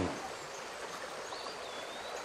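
River water swirls steadily through whirlpools at an ancient water project used to filter out sand, a continuous soft rushing and churning close by with no speech.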